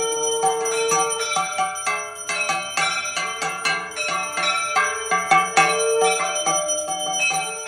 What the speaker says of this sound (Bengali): এত জোরে ঝাঁঝ ঘন্টাটা বাজাস না, কানে তালা পড়ে যাচ্ছে